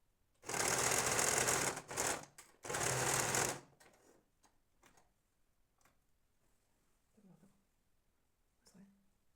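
A sewing machine stitches together two ironed pieces of fabric for a tie, running in two loud bursts of about three and one seconds, then stopping, with only faint handling sounds and a few soft thumps afterward.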